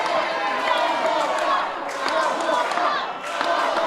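A wrestling crowd at a UKPW match roars and cheers loudly and continuously, a dense wall of shouting voices with brief swells.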